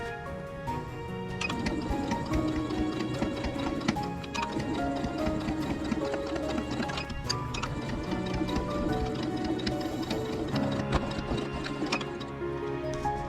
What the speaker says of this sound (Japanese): ここもう一回端ミシンかけます